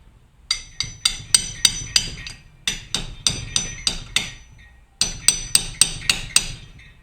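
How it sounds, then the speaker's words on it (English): A hammer strikes a cold chisel against a metal CV joint boot clamp on a car axle in rapid, sharp metallic blows. Two bursts of about a dozen close, loud hits are separated by a brief pause. "Cold chisel real quick."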